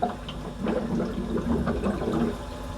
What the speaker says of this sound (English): I think it finally just purged